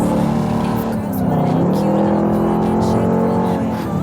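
A 2021 Dodge Durango SRT Hellcat accelerates hard, its loud supercharged engine rising smoothly in pitch, heard close from inside the vehicle with a brief dip and renewed climb.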